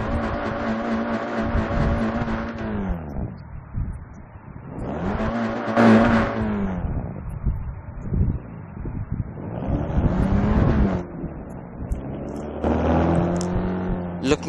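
A car engine in the Car Zone driving game, revved with the handbrake on, surges and falls back in four loud bursts that climb in pitch and then drop away.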